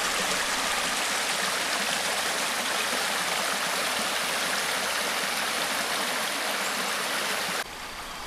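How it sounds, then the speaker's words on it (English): Steady rushing of a flowing creek swollen after a rainy spring in the Georgia mountains, a continuous even wash of sound with no voices. "It's been a rainy spring, so there's no lack of water. Definitely a good current."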